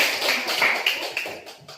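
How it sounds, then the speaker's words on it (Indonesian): A short burst of clapping from a small group of students in a classroom, scattered and uneven, fading quickly. "Oke, tepuk tangan dulu."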